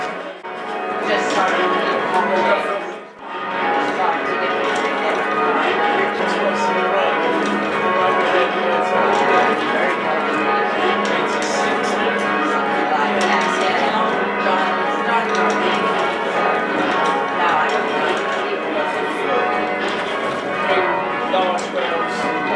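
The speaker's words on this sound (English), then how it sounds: "Large bells." Large, heavy church bells ring continuously in a dense, overlapping peal, loud and sustained, with a brief dip near the start before the ringing carries on steadily.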